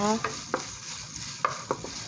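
Chicken skin sizzles and crackles in a hot pan over low heat, with a few sharp scraping clinks of a utensil stirring it, close up and fairly loud.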